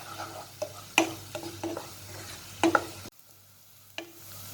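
Onions fry in turmeric in a pan for a soya chunks roast, a soft steady sizzle broken by several sharp scrapes and knocks of the spoon stirring against the pan, then a brief hush before one more stir.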